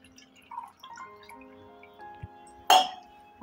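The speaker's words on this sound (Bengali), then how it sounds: "এবার জল পূর্ণ করব।" Water is poured into a pot for a Thursday Lakshmi puja in the month of Bhadra, heard as one brief, loud, close splash near the end after a quiet stretch of faint sustained tones.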